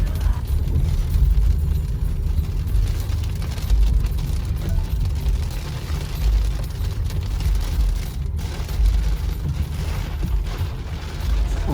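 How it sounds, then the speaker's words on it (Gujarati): Heavy rain pours as an electric car drives into Jaipur: a continuous loud wash of rain and low road rumble from inside the vehicle, with no talking. "આપણે જયપુર એન્ટર થયા અને ફૂલ વરસાદ ચાલુ થઈ ગયો છે."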